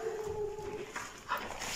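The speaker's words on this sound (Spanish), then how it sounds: "Creo que fue un aullido de perro." A faint, drawn-out dog howl with a steady pitch rises briefly and then fades, followed by soft distant noises.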